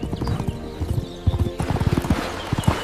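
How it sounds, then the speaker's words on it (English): Horses' hooves clip-clop at a quick, close, steady pace as riders set off, with a short neigh partway through. "The young men bowed to their father, saddled good horses, and set out on their travels."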